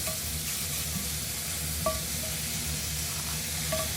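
Mushrooms cook in a pan with a low, even sizzle and occasional faint stirring clicks, fairly quiet and without any talk.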